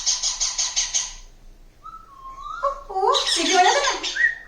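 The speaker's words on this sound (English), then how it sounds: "now listen the parrot sound" Recorded parrot calls are played for toddlers: a quick series of bright, repeated whistled chirps, then a pause and a louder cluster of squawking, warbling calls, with a voice talking over part of it.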